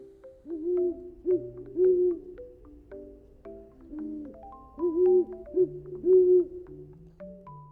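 Soft, rounded hooting calls repeat in a steady pattern over a gentle melodic backing, like an owl's call set to music.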